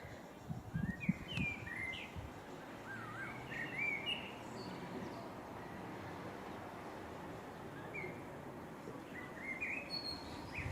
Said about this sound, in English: Uh-oh, because a bird made a sound.